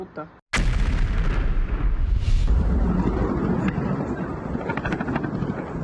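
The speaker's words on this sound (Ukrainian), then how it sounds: "якщо безекіпажний катер не підривають, він підривається сам" Unmanned sea drone boat exploding at an oil loading pier: a sudden loud blast breaks a brief silence, then a sustained roaring, rumbling burst with wind buffeting that stays dense to the end.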